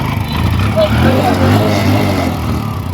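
Three-wheeled motorcycle engine running steadily, a close, continuous low rumble that fills the whole stretch without pause.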